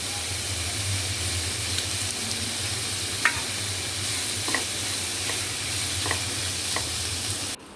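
Vegetables sizzle steadily in a hot pan while a utensil scrapes and taps now and then as they are stirred.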